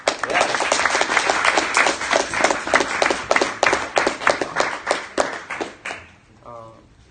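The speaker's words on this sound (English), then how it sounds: "Round of applause for that, everyone." Applause from a press conference audience rises and holds as a loud, dense wash of clapping, then thins to scattered claps and fades toward the end.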